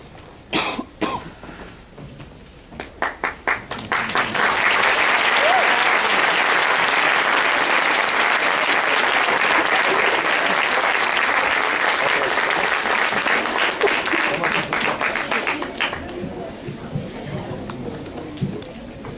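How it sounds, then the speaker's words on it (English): Audience applause after a primary-school play, starting with scattered claps that swell into sustained, dense clapping for about ten seconds before thinning out, with a few coughs mixed in. "Give please an applause to Narrator 1, Rodrigo."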